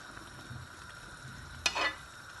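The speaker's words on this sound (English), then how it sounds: "So I'm going to make sure to stir." Chicken sauce sizzles quietly in a pot under a low steady hiss, with soft stirring scrapes and one brief louder clatter near the end.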